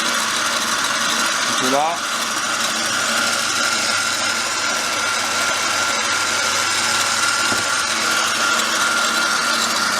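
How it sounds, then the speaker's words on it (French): A stand mixer whisk beats macaron meringue with a steady whirring, rattling mechanical drone, close and continuous throughout, with a brief spoken phrase near the start. "on voit que le fouet commence à faire des dessins"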